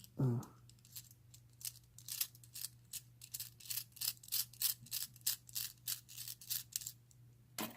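Parts of a challenge lock by Steel Pinnings are unscrewed by hand, producing a series of quiet, close, rhythmic scratchy clicks and gritty thread rasps against a faint steady hum.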